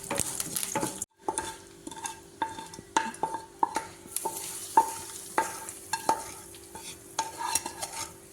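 Tempering spices frying in a pan for a tamarind-leaf chutney: close, crackling sizzle punctuated by repeated metallic stirring clacks and scrapes at an irregular pace, with no talking.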